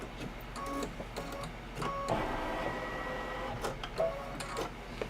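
A Kimberbell embroidery machine stitches a quilting pattern on a March table topper, whirring and ticking at close range with rapid needle pulses and soft mechanical clatter, no talk.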